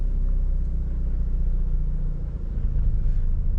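A manual car idles in gear with the clutch let out and the handbrake up, giving a steady, close, low engine rumble that stays even throughout with no one talking.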